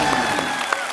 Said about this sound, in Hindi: बस अब जोरदार तालियां हो जाए मेरे।